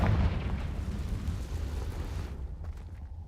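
A Confringo fire spell goes off in the Hogwarts Legacy game as a loud, deep, rumbling blast that decays over about two seconds, heard close and alone.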